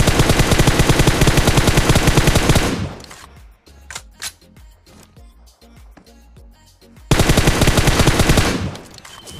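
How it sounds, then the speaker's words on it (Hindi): Automatic gunfire in PUBG Mobile, with loud sustained rapid bursts at the start and end and scattered single shots and clicks between them. "मैंने सोचा इनके ऊपर फायर लेते हैं"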